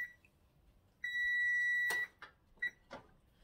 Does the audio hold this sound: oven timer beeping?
yes